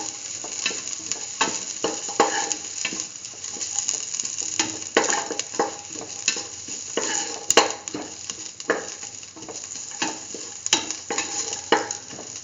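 Garlic and salt stirred into chayote and green peas frying in a pan, a steady close sizzle broken by repeated scraping strokes of a utensil, continuous and fairly loud with no voices.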